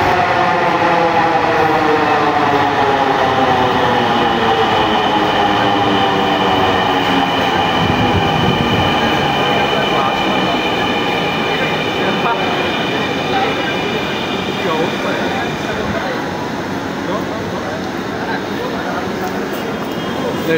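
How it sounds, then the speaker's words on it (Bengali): A metro rail train pulls into the station, its loud rumbling, whining approach and rolling wheels building and sustaining throughout, with voices faintly in the background. "মেবি রেল আসার শব্দ পাচ্ছি।"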